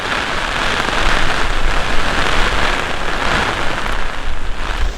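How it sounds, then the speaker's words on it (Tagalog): Heavy rain in Baguio City pours steadily with a dense, hissing roar of drops hitting surfaces, loud and continuous throughout with no voices. "pabugso-bugso pa rin ang buhos ng ulan"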